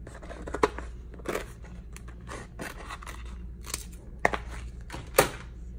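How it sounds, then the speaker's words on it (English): Scissors snip off the excess around a heat transfer design, about half a dozen separate crisp cuts spaced irregularly over a faint background hum. "so I will cut off the excess"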